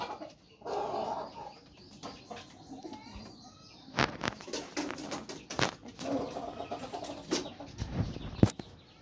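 Soft cooing and fluttering of pigeons nearby, with scattered clucks and sharp wing flaps or knocks in bursts across the clip.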